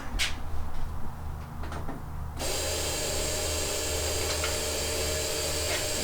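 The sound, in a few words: 1986 Toyota 4Runner engine making a wrong noise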